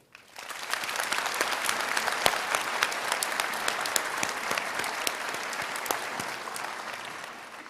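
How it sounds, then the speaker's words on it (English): At a graduation ceremony, a crowd breaks into applause, a dense even spread of many hands clapping with a few sharp individual claps standing out, rising quickly and fading after several seconds. "Please join me also in another round of applause for their effort and support."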